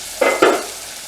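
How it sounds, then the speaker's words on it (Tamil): Two quick bursts of hissing sizzle as dried fish hits hot oil, close and loud, then fading into quiet crackle. "கருவாட்டை கொஞ்சம் எண்ணெய் போட்டு பொரிக்கிறோம்"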